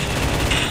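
Pistol fire from the Free Fire video game comes as a dense, loud rattle of shots packed into under a second, with no voices over it.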